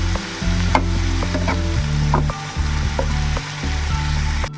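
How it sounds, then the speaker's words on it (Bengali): Onions frying in oil while being stirred in a pan for a Bengali doi katla dish, with a loud continuous sizzle broken by a few sharp scraping stirs and brief dips. "পেঁয়াজটা ভালো করে লাল লাল করে ভেজে নিতে হবে"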